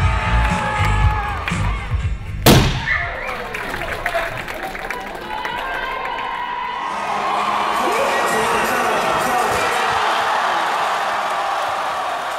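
A homecoming crowd of more than 5,000 revelers on a university campus cheers and shouts, with a sharp burst early on, then a dense, sustained roar of many voices filling the rest.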